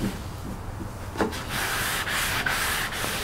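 Sanding by hand on a painted wooden thrift-store table, a steady raspy scratching that starts soft and grows to a continuous close rubbing from about the midpoint onward, with no voices.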